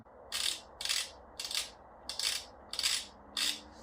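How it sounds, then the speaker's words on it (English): A ratchet on a long extension loosens a 10mm bolt on a 2005-2019 Nissan Frontier transmission: six short, crisp clicking bursts in a steady rhythm, close and clear over a quiet background. "This is a 10mm bolt, and I'm using a pretty long extension here just to clear all the stuff as I loosen it"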